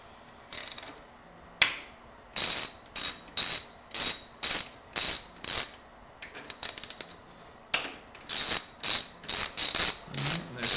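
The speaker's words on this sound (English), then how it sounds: "10 millimeter to loosen the gas tank" Socket wrench ratcheting in quick bursts while loosening the 10 mm gas tank bolts on a Suzuki Marauder VZ800 motorcycle, a dozen or more sharp clicking runs separated by short pauses.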